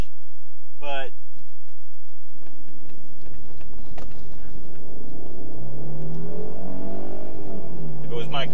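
A Mercedes GLK 350 4MATIC rental car drives off-road over bumps. Its engine rumbles and rises in a steady, loud drone, broken by a few sharp knocks and thumps, while people talk over it.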